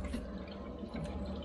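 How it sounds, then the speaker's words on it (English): Water trickles and splashes into a Baxi combi boiler's condensate trap, a faint, steady gurgle with a couple of brighter drips and splashes. "you've got to make sure you fill this trap up with water"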